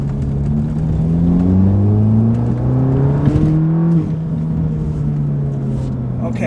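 An Audi or VW car with traction control off accelerates hard in a full pull, the engine note rising loudly through the revs and dropping at a gear shift, heard from inside the car with someone speaking over it.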